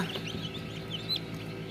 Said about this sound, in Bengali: এই যে বাচ্চা, টাইগারের বাচ্চা